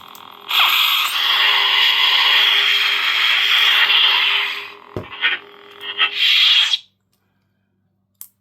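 A loud, buzzing lightsaber hum from a custom Luke Skywalker V2 saber's speaker holds steady for several seconds, then wavers and swooshes in short bursts before cutting off.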